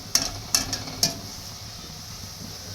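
Onions frying in oil for a gravy, a soft steady sizzle with three sharp spoon scrapes and clinks against the pan early on, then quieter frying.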